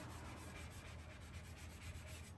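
Old wax being scraped off a surfboard, a steady, close, raspy rubbing that runs without pause at a low level.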